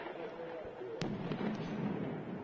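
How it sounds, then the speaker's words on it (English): Fireworks thrown by protesters during a street clash with police in Kyiv's square, Ukraine: a sharp loud bang and a few smaller pops stand out against a dense, constant roar of crowd and street noise. "The protesters are attempting to defend their positions here with fireworks, the police responding with stun grenades"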